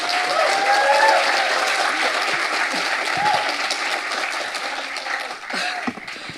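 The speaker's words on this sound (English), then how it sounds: "Please, a round of applause." A large crowd applauds loudly and steadily at an engineering master's graduation ceremony, sustained dense clapping that eases slightly toward the end.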